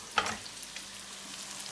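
Onions frying in a pan for an aloo gobi, a soft steady sizzle with a brief stirring scrape near the start, fairly quiet and without talk.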